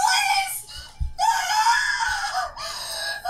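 A person in a movie scene screams loudly and close, in long wailing bursts broken by short pauses.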